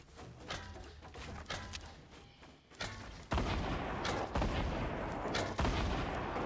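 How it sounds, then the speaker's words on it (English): Gunfire in the Fortnite Battle Royale video game: bursts of shots crackle through the first seconds, then a denser, louder barrage of rapid fire continues with sharp peaks, a game-audio firefight with no talk. "They're shooting at the wrong thing."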